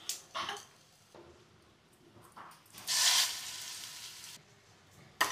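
Fresh mint-coconut chutney hits a hot tempering of curry leaves just after the stove is switched off, giving short sizzling bursts and one louder hissing flare that fades, with quiet stirring between.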